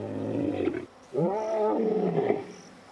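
Young male lions in Lake Nakuru National Park roar to locate one another, two strong, close, rumbling calls with a short pause between, each rising and then trailing off.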